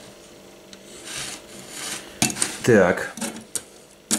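Scissors are rasped against a homemade 240-grit diamond sharpener, giving a few harsh metallic scraping strokes after quieter handling, with a brief word spoken.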